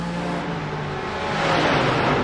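TCR touring race car engines topping out in the iRacing sim at the Nordschleife, a steady high-revving drone with layered engine tones that grows slightly louder and rougher toward the end.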